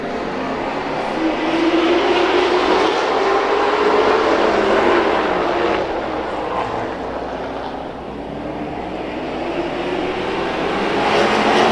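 Race cars roaring back to speed on a race track at the green flag in a 25-lap feature race, a loud continuous engine drone with pitch rising and shifting as the field passes, alone without talk.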